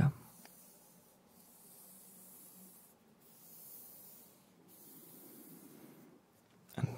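A blade slices along the packaging of a MacBook Pro 14-inch in a quiet room, soft close scraping strokes in three passes broken by brief gaps, with a faint tap at the start and end.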